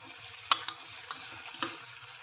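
Mutton curry with coriander powder being stirred in a hot pan makes a soft, low sizzle broken by a few sharp spoon scrapes and clinks.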